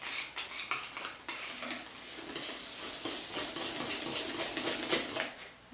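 Pancake batter for Kaiserschmarrn being whisked in a bowl to break up lumps, a fast, steady metallic scraping and clinking of the whisk against the bowl that builds in intensity, with no voices.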